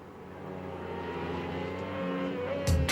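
Daytona Sport Bike motorcycles race past with a sustained engine drone that swells and holds, then a sharper burst of noise near the end as one bike passes close by.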